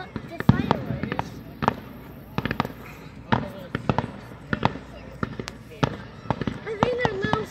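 Fireworks burst at Hermann Fest 2023, a rapid series of sharp, loud cracks and pops with crackling tails, while people talk and react excitedly over the display.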